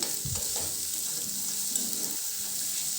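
Eggs frying in a pan while salt and chili are mixed in, a steady sizzle under soft scraping and stirring noises, fairly close and even throughout, no talk.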